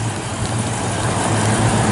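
A 1972 Chevrolet C10 shortbox pickup engine runs steadily nearby, a continuous loud rumble with no talk over it.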